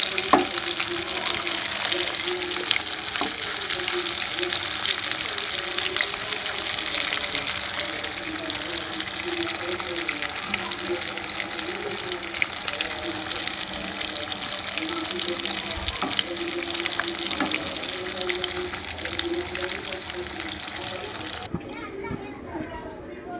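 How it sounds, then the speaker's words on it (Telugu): Fish fillets coated in sesame seeds frying in hot oil, a steady dense sizzle running throughout, with children's voices and occasional stirring clatter in the background before it cuts off near the end. "నువ్వుపప్పు వేసి ఫిష్ ఫ్రై చేస్తున్నాను చూడండి"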